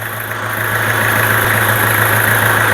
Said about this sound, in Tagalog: even in idle speed, this will not be steady if ever there is a problem with your compressor